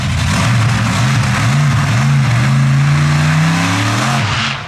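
A monster truck at Truckfest Scotland roars loudly throughout as it revs and jumps a car, with a deep engine note that rises and falls in waves and tire and crowd noise filling the background.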